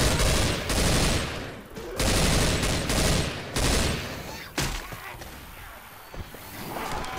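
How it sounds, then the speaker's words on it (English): Assault rifle fire in a video game, loud and close, coming in long sustained bursts separated by brief gaps. "Assault rifle."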